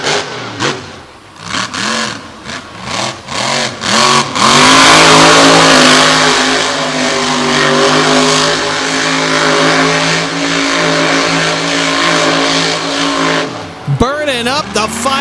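A monster truck at a 2021 nighttime show at The Motor Mile revs hard on Firestone tires, a loud, sustained engine roar that surges and holds for most of the clip while an announcer talks over it.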